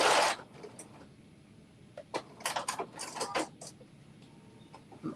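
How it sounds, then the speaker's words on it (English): A home sewing machine runs a back stitch along a rolled hem on an off-the-shoulder top. It makes short, quiet bursts of mechanical whirring and clatter with pauses between them, close by and faint. "then I'm just doing a back stitch"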